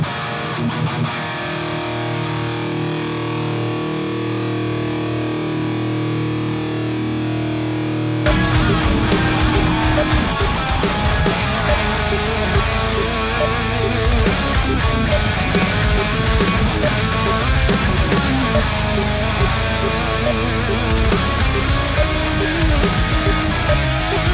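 Heavily distorted electric guitar plays loud, dense riffing after a quieter sustained opening, ending with a squealing pinch harmonic; no talking.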